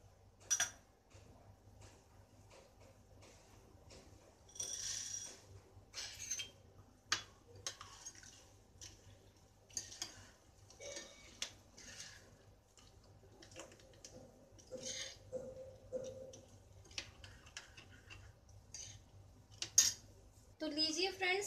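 Boondi being added to a mint raita and stirred in a bowl, quiet scattered clinks and scrapes of a spoon against the dish, with faint soft patters and pauses, close and sparse over a low hum.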